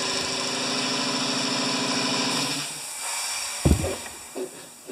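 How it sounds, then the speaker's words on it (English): A noisy air compressor runs with a steady hissing, droning chug, then shifts to a looser rattle. A few knocks and clunks follow nearby. "That's a noisy compressor, eh?"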